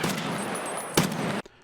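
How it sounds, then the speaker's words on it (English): A gun fires in the video game Escape from Tarkov during a firefight, a sustained loud blast with one sharper crack near the end before it cuts off abruptly, heard on its own without talk. "I line up the shot that I'm looking for, take the shot, and put down the PMC"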